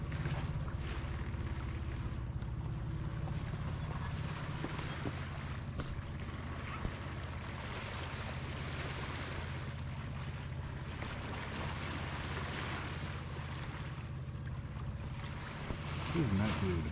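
A sailboat under sail at sea, with steady broadband rush of wind and water against the hull throughout, fairly faint and continuous, with a brief splash near the end and a voice speaking faintly at times.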